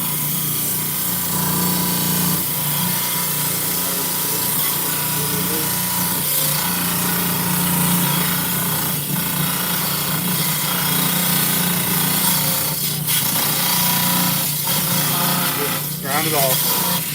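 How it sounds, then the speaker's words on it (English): A rock saw cuts through agate stones with a steady grinding, buzzing drone and a few sharper scrapes, loud and close, while voices talk over it now and then. "Is this the first time you've used rock saw?"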